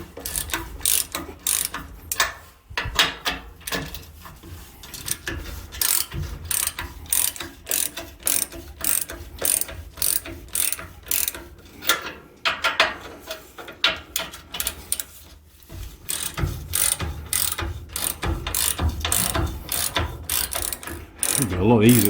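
A hand ratchet clicks rapidly in repeated bursts with short pauses while undoing nuts on an Ifor Williams trailer leaf spring, close and clear, with no talking.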